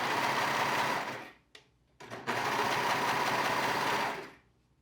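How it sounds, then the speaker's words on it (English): A serger sewing two layers of fabric together, running in a steady fast whirring buzz, stopping briefly twice and then running again for a couple of seconds before halting, close and loud with no talking. "this has 2 layers that I'm just going to serge together and then fold"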